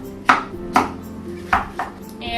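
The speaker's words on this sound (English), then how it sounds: "so let's go ahead and cut this watermelon in half. I just start making slices down" A knife chops down through a watermelon half in four firm, evenly spaced strokes, each a crisp thud on the cutting board, close up and clear with no talking.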